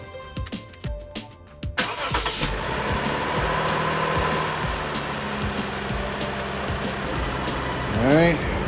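A Lexus engine cranks and catches after an oil and filter change, then settles into a steady, close idle hum with light vibration, with a brief rising whine near the end.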